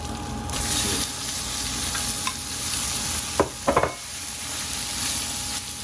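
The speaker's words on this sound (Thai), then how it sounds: "นำหมูบดลงไปผัดให้เข้ากันนะคะจนสุกเนาะ" Ground pork stir-fried with curry paste in a pan: steady sizzling frying hiss with a few scraping stirs of a utensil clustered near the end, close and without talk.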